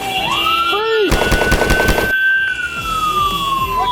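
Police officers firing guns at a suspect after a high-speed pursuit, caught on a dashcam: a rapid burst of close, loud shots under a wailing siren that sweeps on throughout.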